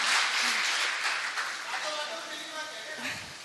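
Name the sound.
audience applauding at a mushaira poetry gathering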